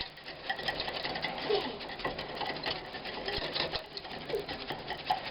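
Fast whisking in a bowl while making chocolate macaroons, a quick steady clatter of wire against the bowl, close and fairly quiet, with a few brief louder taps.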